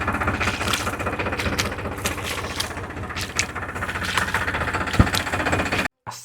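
A farm tractor rumbles steadily close by with a dense, even mechanical rattle and knock, running on without a break until it cuts off abruptly near the end.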